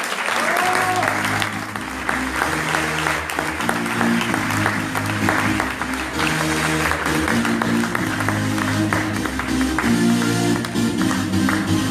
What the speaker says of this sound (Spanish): Recibámoslo con un fuerte aplauso